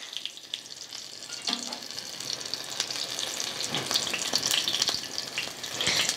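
Egg-battered chiles capones sizzle and fry steadily in hot oil, a close, continuous crackle with faint bubbling and occasional small pops, with no talking.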